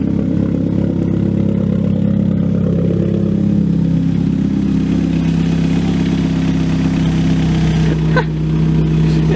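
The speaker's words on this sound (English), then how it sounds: "Can you hit the gas a little?" A car engine fitted with DDM Works performance headers runs up through a sustained rev, a deep, throaty drone held loud and steady for several seconds, with a brief dip near the end.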